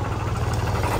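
A tempo (three-wheeler) engine labors on a rough hill road in Panchthar, a steady mid-pitched rumble with constant vibration, close and continuous throughout.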